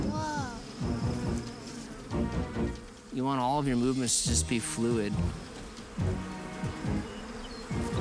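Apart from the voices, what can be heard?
bees buzzing around an open beehive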